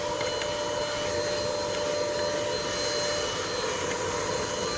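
An APOSEN H20-4 cordless vacuum cleaner runs continuously while cleaning a car interior, giving a steady high whine with an airy rush. It stays close and even throughout.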